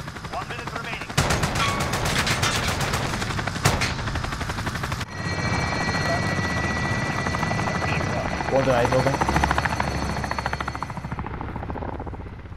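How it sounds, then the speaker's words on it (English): Helicopter killstreak in a shooter game, a loud, continuous rotor chop with bursts of rapid gunfire layered over it throughout, while a player talks briefly. "Was that your chopper or your support healer?"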